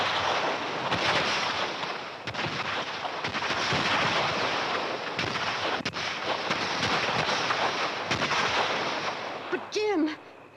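Rapid artillery fire with high-explosive shells in a 1952 Malayan Emergency film, a dense roaring barrage of overlapping blasts and rumble that rises and falls, ending with a brief voice-like cry.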